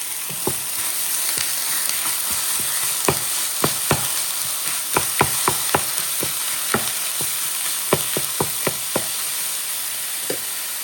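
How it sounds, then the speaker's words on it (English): Beef for stuffed bell peppers fries in a hot pan with a continuous sizzle, broken by many sharp clicks and knocks from stirring that come irregularly across the span, close and clear, with no voices. "Okay, let me start the pan. I'll put down the beef."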